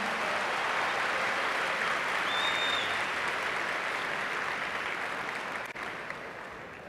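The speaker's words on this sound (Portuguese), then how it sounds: "Será que você pode aplaudir no seu lugar" Audience at the Consig Summit 2022 applauding from their seats, a dense steady roar of clapping that holds for several seconds and then gradually fades.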